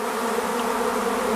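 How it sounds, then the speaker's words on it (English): Africanized honeybees at a beekeeping site in northern Belize make a steady, dense buzzing that stays close and even throughout, with no voices. "Africanized honeybees, better known to us as killer bees, stir a lot of fear and panic in us"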